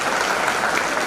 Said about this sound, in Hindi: एक बार सर के लिए पुनः एक बार जोरदार ताली होनी चाहिए